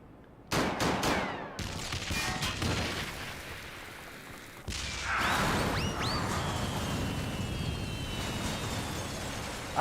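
Bursts of gunfire and heavy explosions in Final Fantasy XIV, loud and close, with sharp blasts, rattling volleys and sweeping whooshes layered over game music.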